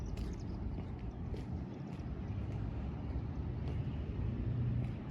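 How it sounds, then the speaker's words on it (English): A low, continuous engine rumble from vehicles on a street, moderately distant and steady, mixed with wind buffeting the microphone. "I hear engine sounds right now."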